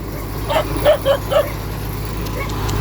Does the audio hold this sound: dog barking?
yes